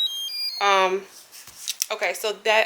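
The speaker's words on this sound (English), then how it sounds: "it just made a beeping noise, so that means it's ready" A few short electronic beeps from a mini heat press signalling it is ready sound clearly at the start, then a person talks over the rest.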